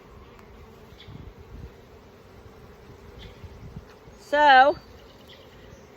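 Honey bees at an open beehive during an early summer hive inspection: one close buzz swells and wavers for about half a second over a quiet outdoor background, with a brief spoken word nearby.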